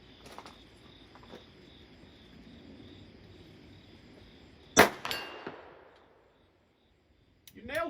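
A 1915 French Ruby pistol fires one sharp, loud shot that rings out and decays over a couple of seconds, followed by near silence and a few faint metallic clicks as the gun jams.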